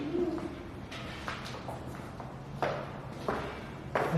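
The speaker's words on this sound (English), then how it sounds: "I hear rustling. Hopefully that's just birds." Scattered rustling and scuffling bursts from birds moving inside a mausoleum, irregular and fairly faint over a steady low background hum.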